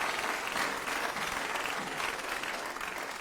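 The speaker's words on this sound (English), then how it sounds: "A round of applause for all of them." Applause at an ethical investment awards ceremony, a short burst of steady clapping from an indoor audience, moderately distant and continuous.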